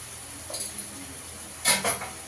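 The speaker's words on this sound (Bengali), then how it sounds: "মশলাটা ভালো করে কষিয়ে নিতে হবে" A spice masala fries in a pan under a faint sizzle. A utensil gives a couple of soft scrapes and clinks against the metal as it stirs.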